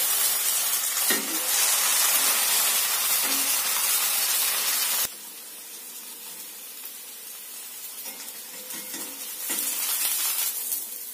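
Lenten sourdough pancake frying in a pan after being flipped, a steady close hiss of oil that drops to a softer, quieter sizzle midway, with no talk.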